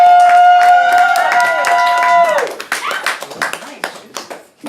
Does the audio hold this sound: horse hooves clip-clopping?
no